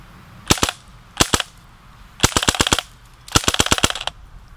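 Full-auto bursts from a modified Umarex EBOS 4.5mm steel BB gun at about 500 rounds per minute: four rapid bursts of sharp, loud cracks, the later ones longer, with no talk.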